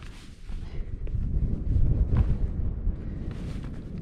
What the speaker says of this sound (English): the wind is not helpful today